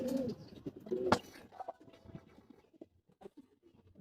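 A racing pigeon returning to its loft after a 145 km derby race near Calapan, Mindoro, gives a few soft, close coos, followed by light rustling and scattered patter in a quiet setting.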